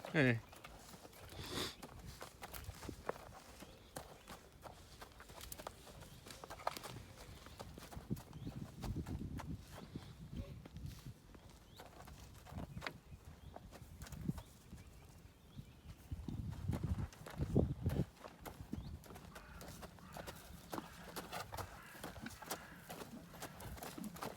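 A six-year-old horse walks during a horsemanship session, its hooves clip-clopping in a steady, moderately close rhythm beneath continuous talk from people nearby.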